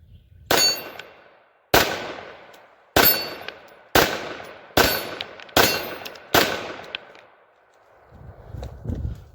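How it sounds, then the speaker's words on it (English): Seven sharp pistol shots from a Taurus TH9 9mm handgun ring out at an uneven, steady pace, each loud crack trailing off with a short ringing decay, followed by a low rumble at the end. "We're going to shoot a few of these."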